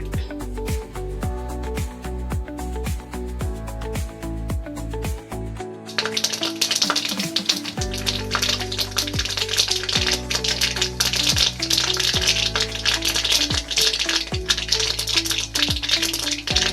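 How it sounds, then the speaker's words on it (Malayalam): Mustard seeds crackling in hot coconut oil in a pan, with irregular sharp pops and ticks over a steady sizzle that grows louder and denser partway through, close by and with no talking. "കടുക് പൊട്ടി വന്നിട്ടുണ്ട്"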